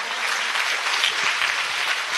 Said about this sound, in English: let's give a big round of applause for the inspiring words by Miss Anna